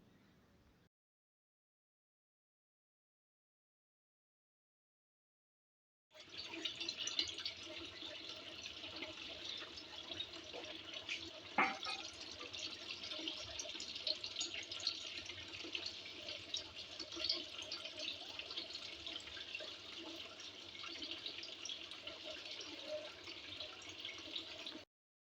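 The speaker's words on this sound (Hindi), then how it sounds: "होता है सुबह के बर्तन धोना, स्पेशली सर्दियों में ठंडे पानी से" A cold-water tap runs steadily for about twenty seconds while dishes are washed on a winter morning, after a short silence, with no talking.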